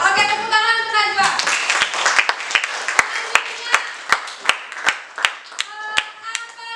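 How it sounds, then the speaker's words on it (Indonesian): Students in a classroom break into clapping after talk, starting as a dense burst and thinning into a slow, steady run of single sharp claps from one or two people close by. "tepuk tangan untuk Najwa."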